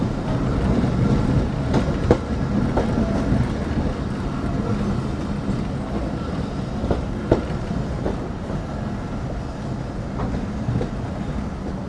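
Betna Express passenger train running from Khulna toward Benapole, a steady loud rumble of wheels and carriages with faint clicks over the rails throughout, heard from inside a coach.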